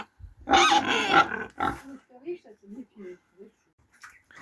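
Close, loud squealing and snorting from a pig in its pen as it is being cleaned out, followed by a run of short, soft grunts in quick succession.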